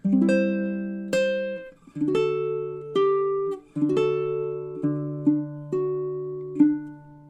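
D: Baritone ukulele playing measures 12 and 13 of a song in time, a steady sequence of plucked single notes and sustained tones, close and clean, with no voice over it.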